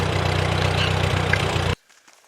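A homestead tractor engine running at a steady loud idle close by, a continuous low rumble that cuts off abruptly, leaving near silence.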